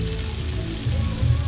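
Green chili, dried chili, cumin seeds and bay leaf frying in hot oil, giving a steady close crackling sizzle that swells slightly louder toward the end.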